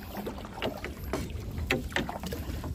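Oars dipping and pulling through water as a boat is paddled with its engine stalled, in misty morning conditions; irregular splashes and knocks sound close, with steady wind and water noise beneath and no talking.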